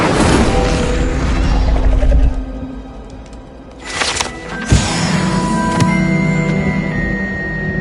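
A fiery Incendio spell is cast in a wizarding video game, a broad whooshing burst that swells, fades, then flares again with sharp magical crackles and a lingering shimmering hum, with no talk.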